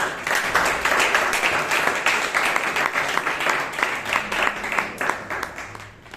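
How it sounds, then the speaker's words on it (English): An audience at a Toastmasters club meeting in Bangalore claps for a speaker, giving sustained, fairly close applause with a lively, uneven rhythm that fades toward the end. "Please give him a huge round of applause."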